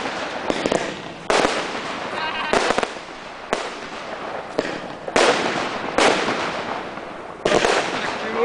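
A village fireworks display in Steensel at night sets off a rapid series of loud, close bangs from fireworks and firecrackers. Sharp reports land about every second, each with a crackling tail, and there is no lull between them.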